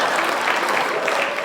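A studio audience at a Tamil television comedy show claps in a brief, dense burst of applause that stays loud and even throughout.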